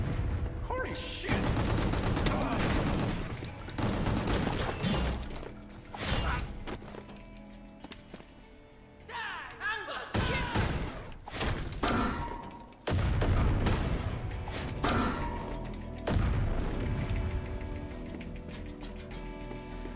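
Video game shootout with bursts of gunfire and explosive booms running loud and dense through most of the stretch, broken by brief lulls, with voices present.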